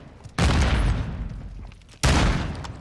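Two loud, booming bursts of gunfire from the video game Modern Warfare 2, each hitting abruptly and decaying over a second or so, close and heavy, with no talk over them.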